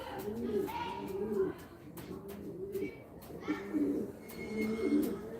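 Pigeons coo repeatedly in soft, throaty rolling phrases close by at a bird market, with a few brief chirps and light rustling between the calls.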